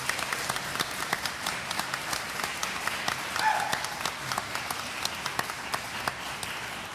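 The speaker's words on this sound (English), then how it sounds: "Give a round of applause." Audience applauding a high school arts music group at a museum event in Long Beach: a steady wash of clapping from a sizable crowd with distinct individual claps popping out, moderately quiet and continuous throughout.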